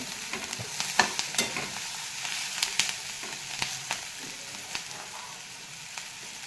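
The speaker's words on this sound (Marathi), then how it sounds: "हे बघा मस्त मिरच्या तळून निघलेल्या आहे, कांदा तळून निघलेला आहे." Onion and green chillies sizzle steadily in hot oil for a matki dish, with scattered sharp clicks and scrapes of a stirring spoon against the pan; close and moderately loud, no voices.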